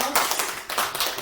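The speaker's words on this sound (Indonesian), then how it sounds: "kita memberikan dulu tepuk tangan untuk Ibu Vita" Brief applause for a presenter at a teachers' session on positive culture, a short burst of hand clapping from a small group nearby.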